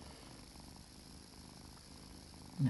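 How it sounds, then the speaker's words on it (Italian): A black cat purrs softly and continuously at close range, a low steady rumble with no other sounds until a brief bump at the very end. "fa le fusa lui"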